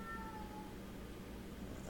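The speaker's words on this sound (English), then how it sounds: "As Abraham is doing his major cat call" A pet cat named Abraham calls out indoors in a faint, drawn-out meow heard alone against a steady background hum, with no one speaking over it.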